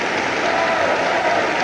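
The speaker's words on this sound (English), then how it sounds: "When Fadeev finished, the crowd applauded what looked like an unbeatable routine." An arena crowd at the 1986 World Figure Skating Championships applauds a finished routine with dense, steady, sustained clapping that fills the hall.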